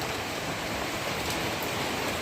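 Steady rain pours down evenly, a close, continuous hiss with no pauses or other sounds.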